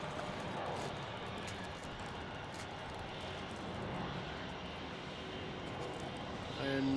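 A plane takes off at Melbourne Airport, a broad, steady jet roar heard from a distance across the field, swelling slightly near the end, with faint background chatter.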